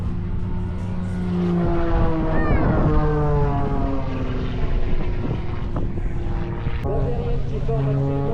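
A propeller aircraft engine turns over and spools up, its steady droning tone rising and holding, with a voice speaking over it, at an air show.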